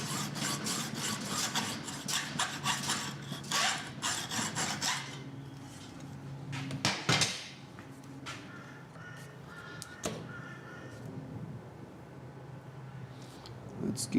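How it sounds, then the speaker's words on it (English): An old screwdriver prying something open in a shed, producing scraping and rasping strokes in irregular bursts, close by, with a few sharper knocks and a quieter stretch in the middle. "pry it open with the old screwdriver"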